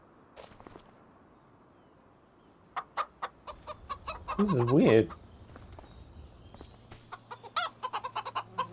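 Chickens cluck in the Farming Simulator 25 video game amid a run of crisp footsteps, with a brief loud cackle midway and someone speaking over it.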